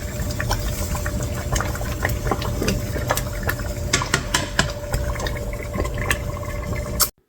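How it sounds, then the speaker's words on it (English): Thick apple butter bubbles and pops steadily in a pot, with frequent splashy bursts close up, continuing for several seconds before stopping abruptly. "It's splashing quite good, so I don't want to really get burnt."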